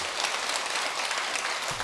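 Applause from an audience at a Buddhist sermon in a temple hall, a steady, even wash of clapping heard alone from start to finish.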